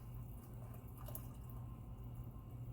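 Water and broth are poured into a pan of turkey wings, making a faint, continuous trickling and splashing that runs steadily from start to finish.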